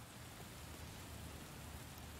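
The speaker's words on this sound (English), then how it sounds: "I kind of like the rain." Steady rain falls in the video game LA Noire as an even, continuous hiss of drops, soft and unbroken throughout with no voices.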